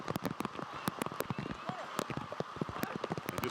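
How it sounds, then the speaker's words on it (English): Heavy downpour during a professional football match, steady hiss of rain on surfaces with crowd and pitch noise and irregular thumps, faint and distant beneath the broadcast. "And just an absolute downpour right now."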